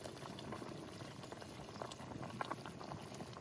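Hilsa fish curry broth boiling in a pot, with brinjal about to be added: a low, continuous bubbling simmer, fairly faint and close, with no talk.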